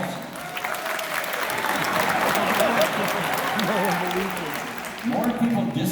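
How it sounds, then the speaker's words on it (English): Applause from a concert hall audience at the Disney Concert Hall, a dense, sustained clapping with crowd noise, and a few voices and a whistle rising through it. "Applause for false."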